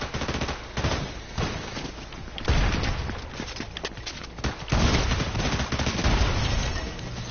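Shotgun and other gunfire in the video game Fortnite: rapid bursts of shots and sharp bangs in quick clusters, loud and dense, with brief pauses between volleys.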